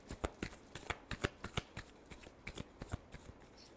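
Tarot cards being shuffled by hand, a quick run of crisp riffling flicks and slaps repeating close up, fairly quiet and alone.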